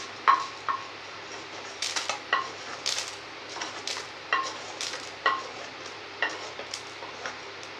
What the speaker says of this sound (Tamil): இதையும் பச்சை இல்லாமல் நல்லா வறுத்துடணும்